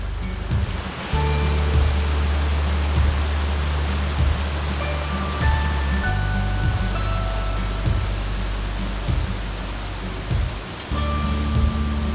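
A steady, dense roar of rushing water from a waterfall in Yellowstone fills the space continuously, loud and broadband without pause.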